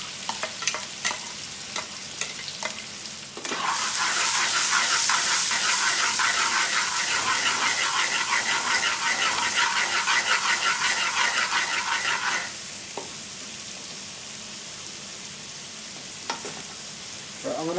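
Onions, green peppers and green chilies hit a hot pan for Bombay aloo, bursting into a loud close sizzle that holds steady for several seconds, framed by quieter clinks and scraping before and after.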